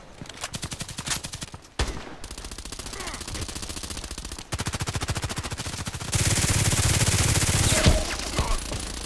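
Glock pistol fire in a shooter game rattles off in long, fast, evenly spaced strings of shots, loud and close, with short pauses between volleys and a heavier burst near the end.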